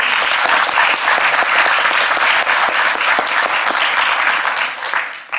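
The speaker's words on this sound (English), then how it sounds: "Round of applause for Kevin Johnson." Audience applause for Kevin Johnson, a lawyer specialising in CEQA, as he is called to the stage. Dense, steady clapping from a crowd holds at full strength, then tapers off near the end.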